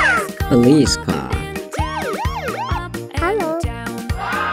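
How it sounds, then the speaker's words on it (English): A wailing police-style siren rises and falls in sweeping tones, loud and close, mixed with toy-like electronic sounds and brief bursts of other noises. "Police car."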